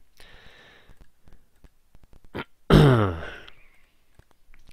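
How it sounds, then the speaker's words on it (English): A single sharp, loud cough bursts out close to the mic, surrounded by faint scattered clicks and quiet background noise. "Cough in everybody's ear."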